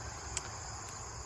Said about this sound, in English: And the crickets are very loud today.